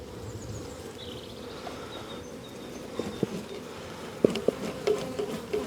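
Honeybees in an open beehive give off a steady low buzzing hum, with a few sharp clicks and taps from handling near the end.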